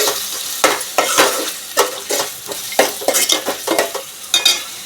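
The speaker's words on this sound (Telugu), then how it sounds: "టమాటా కూడా వేగిపోయింది" Tomatoes with ginger garlic paste fry in oil in a pan for a fish curry, a close sizzle broken by rhythmic scraping spatula strokes against the metal.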